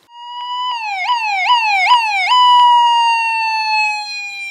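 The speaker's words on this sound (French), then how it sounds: "c'est une sirène type américaine de ton avec deux rythmes différents" A synthetic American-style siren tone from a small speaker driven by an Arduino, with two different rhythms: a held note, then a series of quick repeating downward yelps, then a steady tone again.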